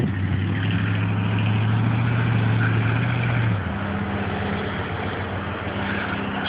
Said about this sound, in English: His wheels are just spinning in the snow completely.